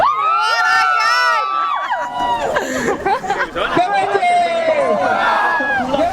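A large crowd celebrates Malaysia Day in Merdeka Square, Kuala Lumpur, with loud cheering, whoops and shouting voices blending into a dense, continuous roar of festive babble close by.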